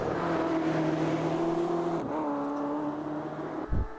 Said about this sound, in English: It's the green 14 machine, the BMW M8 GTE.